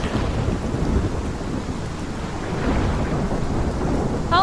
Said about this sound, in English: Especially in the rain and everything, it makes it more dramatic.